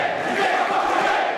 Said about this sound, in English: listen to this crowd for a show that is really just getting underway